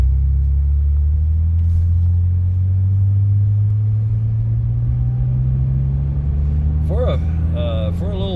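A six-cylinder car accelerates on the road, its low engine drone climbing steadily in pitch under a constant cabin rumble, with a brief voice-like sound near the end.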